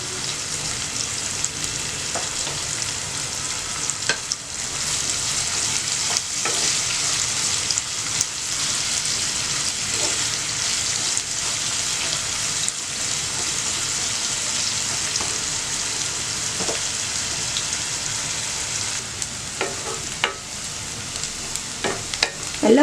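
Onions sauté in hot oil in a pan, lightly salted, as the base for a fish masala. A loud, steady sizzle runs throughout, broken by scattered scraping clicks of stirring, with no voices.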